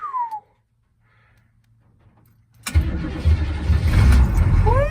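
A CUCV truck that has been sitting for a while starts: after a brief meow-like squeal and a quiet stretch, the engine cranks and catches, then settles into a loud, rough running rumble nearby.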